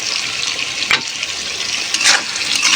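Cumin, turmeric and chili powders frying in a pan with a continuous soft hiss, marked by a few brief louder sizzling bursts from stirring.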